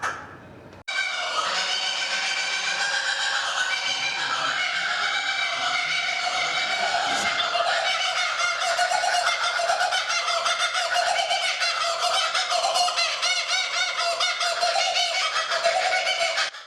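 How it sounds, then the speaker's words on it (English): Laughing kookaburra (Dacelo novaeguineae) calling loudly and continuously after a brief quiet start, a dense rolling cackle of many overlapping harsh notes with no talking. "The Laughing Kookaburra's call is made through a complex sound production system"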